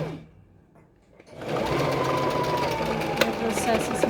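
A sewing machine backstitches over elastic on a face mask, starting after a quiet pause and then running in a steady, close, rapid mechanical whir, with someone talking faintly at the start.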